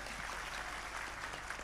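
Faint, continuous applause from an audience for a police chief at a routine Islamic religious gathering at a boarding school, a distant wash of clapping with no distinct claps standing out.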